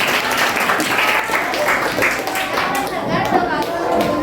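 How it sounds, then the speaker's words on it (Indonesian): Schoolchildren in a classroom break into loud, dense applause, a continuous patter of many small hands clapping with chatter underneath. "Berikan tepuk tangan anak-anak ya."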